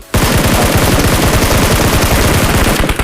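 A SCAR-L assault rifle sprays a long, unbroken burst of rapid, loud gunshots in the PUBG Mobile video game. The shots run for about three seconds with no pause.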